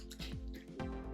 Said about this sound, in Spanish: Pues he cogido un poquito de agua de un cuenco que tengo por aquí. Las primeras gotas no hacen mucha espuma, vamos a seguir añadiendo agua a ver cómo va.